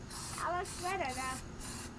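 Plasti Dip aerosol spraying a coating onto car badging, a series of close, hissing bursts that come in a rhythmic pattern with a voice sounding faintly underneath.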